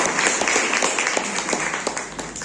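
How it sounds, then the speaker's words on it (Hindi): An audience at a Gandhi death-anniversary gathering claps to welcome a speaker. Brisk, crowded applause runs throughout, fairly loud and close, with individual claps standing out in the wash. "जोरदार तालियों से स्वागत है।"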